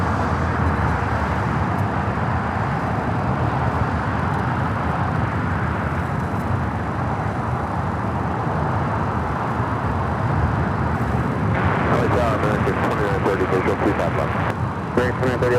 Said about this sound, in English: the Lufthansa A340-300 rolling down to 24 left there on the north side